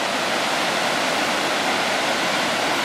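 Waterfall in Ottawa pouring into a rocky inlet with a punch-bowl pool, a loud, dense, continuous rush of fast water that holds steady throughout with no voices.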